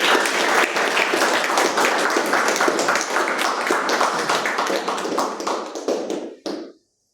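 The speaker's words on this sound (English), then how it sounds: "with a big round of applause" Members at a Toastmasters club meeting applaud an introduced general evaluator, brisk crowded clapping at even strength that thins and stops abruptly near the end, leaving silence.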